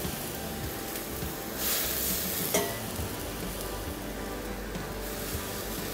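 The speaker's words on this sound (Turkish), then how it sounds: "Biraz kavurduktan sonra sebze suyumuzu ekliyoruz" Vegetable stock poured over sautéed vegetables in a hot pan gives a brief surge of hissing sizzle, then a softer, steady frying crackle that continues close by with no voices.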